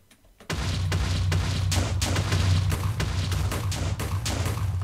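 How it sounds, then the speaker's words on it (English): A steady, loud stream of rapid booming blasts with a deep rumble underneath, continuing without pause after a brief quiet start, made by Creeper Wings while flying in a Minecraft mod. "they are Creeper Wings, which makes explosion sounds when you fly."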